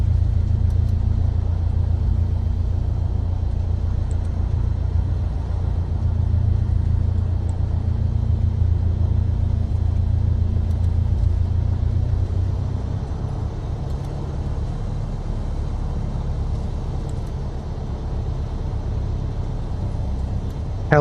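A simulated aircraft engine idles steadily after start-up in Microsoft Flight Simulator 2024, a continuous low rumbling drone that stays loud and even throughout, with a slight drop in level partway through.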